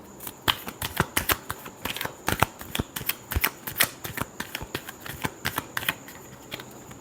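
A deck of tarot cards is shuffled by hand, producing a close, rapid series of sharp flicking riffles and slaps in an uneven rhythm with no talking.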